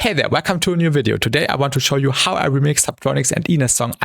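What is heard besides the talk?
No distinct noise like a dog, phone or traffic.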